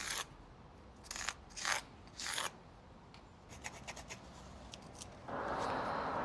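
A worn pencil scratched across cut stone to mark a line, a few raspy strokes at first, then lighter quick scratches, ending in a louder steady grinding rasp, close and alone.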